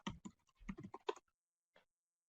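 Quiet typing on a computer keyboard as a search is entered, a quick run of key clicks followed by a pause and one last faint tap.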